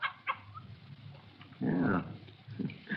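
Soft, high whimpers from a female puppy come in short bursts, with one louder, rougher whine in the middle, all faint and close with quiet gaps.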